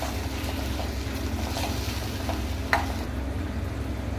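Chilli chicken sauce with soy sauce and salt stirred in a hot pan gives a steady sizzling hiss, with one brief clink of the utensil against the pan partway through and no talk.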